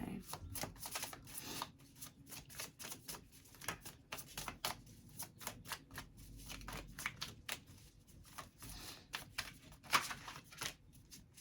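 Tarot cards shuffled by hand in rapid riffling bursts of crisp papery flutters, repeating throughout at close range with no talking.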